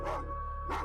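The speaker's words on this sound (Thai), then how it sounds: "เพราะได้ยินเสียงหมาที่มันเห่าและหอน" A dog barks in two short bursts at night, one near the start and one near the end, with a low steady hum underneath and no one speaking.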